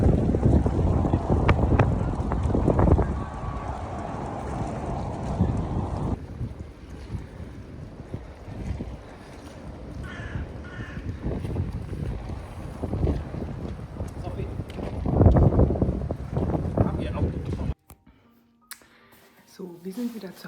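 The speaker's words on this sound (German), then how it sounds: "Der Wind ist ja ziemlich eisig." Icy wind gusts over a harbour, rumbling steadily against the microphone with boat and water noise beneath and people talking through most of it, before the sound drops away near the end.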